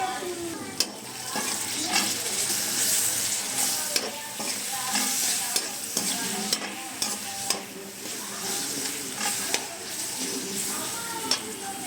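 Tomatoes fry with masala over a medium flame for white peas kurma, making a steady close sizzle. Repeated sharp spoon scrapes and taps against the pan break through at irregular intervals.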